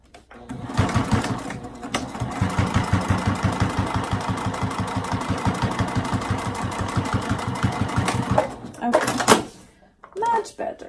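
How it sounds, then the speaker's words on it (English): A sewing machine stitches linen cotton canvas for an ID badge holder, a fast even rhythmic whir running for several seconds, then stopping, with a few handling clicks and a quiet voice afterward. "I'm just gonna sew along that again and try and straighten it up"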